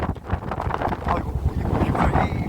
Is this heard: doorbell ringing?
no